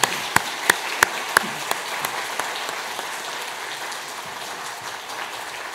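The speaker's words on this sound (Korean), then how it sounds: "우리 크게 박수로 환영해 주시면 좋겠습니다" A church congregation at a Sunday worship service applauds to welcome a singer, with a few sharp leading claps followed by soft, thin applause that fades away.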